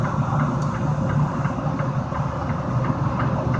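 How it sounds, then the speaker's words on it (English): A heavy truck engine idles steadily to build air brake pressure, a continuous low rumble with faint rhythmic clicks, close and alone with no talk. "And I'm going to build the air by idling the truck."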